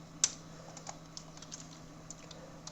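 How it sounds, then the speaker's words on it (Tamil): Light keystrokes on a computer keyboard during Photoshop design work, a handful of quiet, scattered clicks with one sharper tap near the start, close and faint over a steady low room hum, with no talking. "ஸோ இப்போ இந்த டியூரேஷன் 40 days இங்கே டைப் பண்ணிக்கலாம்."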